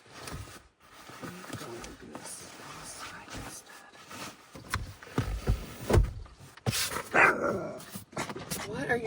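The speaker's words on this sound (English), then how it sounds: "What are you barking at?" A dog barks a few times in short bursts amid background noise and shuffling, with brief human voice sounds nearby.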